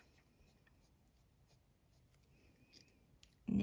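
Faint scratching of a HongDian fountain pen's smooth stainless steel nib moving across paper, quiet intermittent strokes ending in a brief louder bump.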